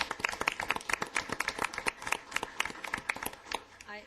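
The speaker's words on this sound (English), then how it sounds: "I think that deserves a round of applause." Scattered hand clapping from a council meeting audience, sparse and uneven over about four seconds, moderately close with some background voices mixed in.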